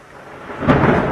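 A sudden crack of thunder bursts in over steady rain, swelling into a loud, rumbling roll that lingers to the end.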